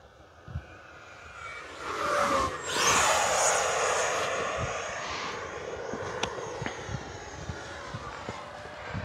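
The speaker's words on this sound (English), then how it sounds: "this Avanti just really holds its own. It's just a super fast, super fun plane." An FMS Avanti S V3 70mm RC jet flies past with a rising, rushing ducted-fan whoosh that peaks loudly and then fades to a fainter whine, with occasional light clicks.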